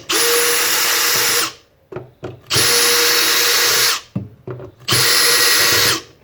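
A power drill driving screws out of a washing machine's motor casing, three sustained loud whirring bursts of about a second and a half each, separated by short clunks and rattles of handling.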